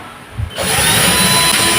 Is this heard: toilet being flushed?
no